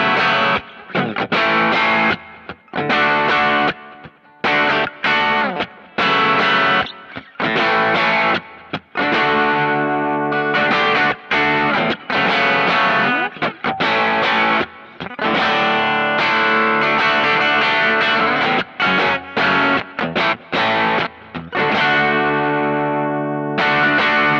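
Telecaster electric guitar played through a small amp with a 6-inch speaker, miked with a Royer 121 and an SM545, strummed in driven, chopped chord bursts with short gaps, loud and close, no voice.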